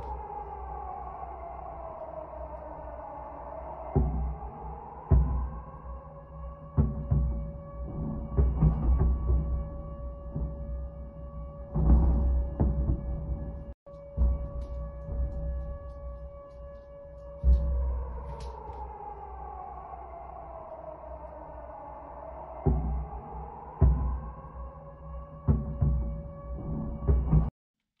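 Air raid sirens over Sevastopol, distant and faint, wail in long rising and falling cycles while dull, scattered booms from missile explosions thud in the background.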